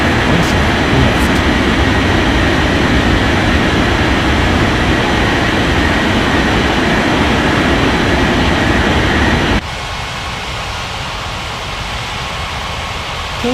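An airliner accelerating down a runway on takeoff in the video game Unmatched Air Traffic Control, a loud, steady engine roar that cuts off abruptly near the end to a quieter background hum, with no talking.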